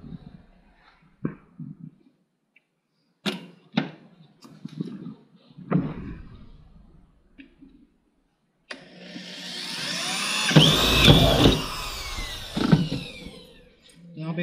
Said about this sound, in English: And then I'm going to drill my second hole.